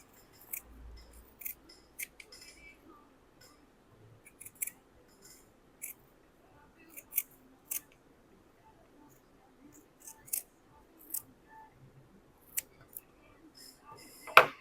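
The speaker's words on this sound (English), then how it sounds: "So then I take it and I cut the hole out" Scissors cut a hole out of bass boat carpet in a series of sparse, crisp snips spread over several seconds. The cuts are faint and close, with quiet rustling between them.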